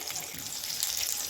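Loote (Bombay duck) fish chops frying in hot oil, a steady close sizzle and crackle running without pause through the short moment.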